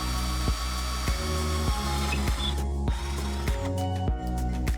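A cheap power drill bores into a door to fit a lock on an off-grid plot in Portugal: a loud, steady motor whine broken into a regular pulsing rhythm roughly every half second, no talking.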